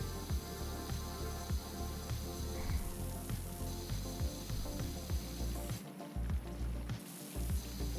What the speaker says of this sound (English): Just gonna spray the railing.